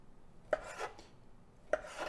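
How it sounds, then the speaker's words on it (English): A knife chops sausages into bite-sized chunks on a board while choucroute garnie is being made, giving two sharp, close cuts about a second apart with soft rubbing between them and no talking. "So these I'm just gonna cut into bite-sized chunks."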